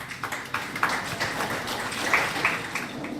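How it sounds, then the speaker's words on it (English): Steady broadband applause from a seminar audience, with dense overlapping claps at moderate loudness throughout. "A round of applause, please."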